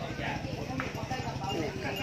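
Horse hooves clip-clop in a steady, even rhythm at a cattle and buffalo livestock market in Don Thoi, continuous and fairly close under a busy background of voices.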